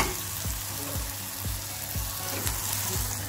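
Eggplant sizzles loudly and steadily in hot oil, a dense frying hiss that holds for the whole stretch, punctuated by soft rhythmic scraping thumps roughly every half second.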